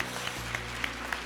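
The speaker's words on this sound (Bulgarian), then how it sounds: "Нашите аплодисменти от нас за вас този път." Applause fills an awards ceremony hall in Bulgaria, a continuous wash of clapping over a low steady hum, with a few sharper claps standing out.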